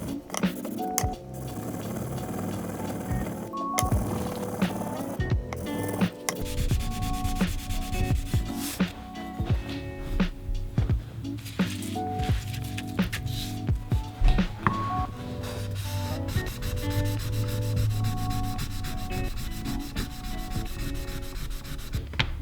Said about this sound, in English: here I am just sharpening the blade, again with some high grit sandpaper